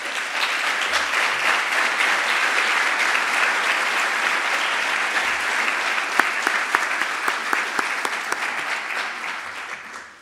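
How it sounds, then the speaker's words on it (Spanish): An audience at a symphonic band concert of bullfighting pasodobles gives sustained, dense applause for about ten seconds, steady and loud before tapering off at the end, with no voices on top. "Gracias, chavales. El primer aplauso de hoy."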